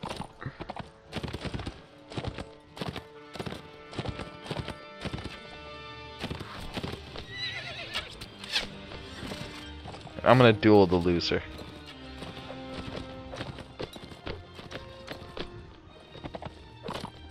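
Horse hooves and a whinny in the Mount & Blade Warband video game, with steady clip-clop steps and a sharp neigh midway, heard under someone talking.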